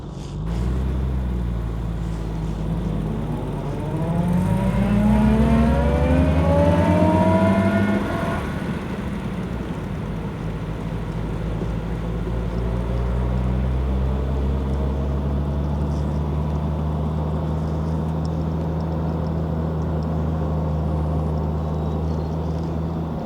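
A 1964 Jaguar E-Type Series 1 3.8L roadster drives off, its engine climbing loudly through the revs before settling into a steady, close cruising drone with no talk over it.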